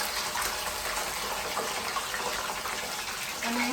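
Salted water is poured into hot oil in a pan over a high flame, giving a continuous loud sizzling hiss that stays steady throughout.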